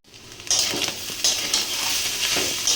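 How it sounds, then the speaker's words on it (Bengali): Fish roe fries with potato and onion in a pan with only a little oil, giving a close, loud sizzle that swells in bursts as the pan is stirred, with faint scraping underneath. "এই যে সব ভাজছি"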